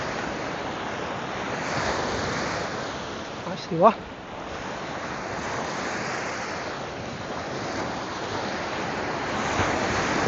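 Lake waves wash steadily onto a lakeshore in Canada, a broad continuous surf roar mixed with wind buffeting the microphone, while someone speaks briefly midway.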